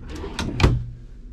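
A drawer in a Beaver Contessa motorhome slides and bumps shut, a few quick knocks and a soft thud at close range.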